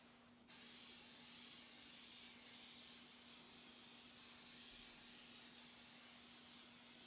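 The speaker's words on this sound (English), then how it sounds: "I'm going to spray the backer as well." A continuous, even hiss of spray adhesive from an aerosol can, sprayed onto a backer, starts abruptly after a brief pause and keeps going steadily, close by, with a faint background hum.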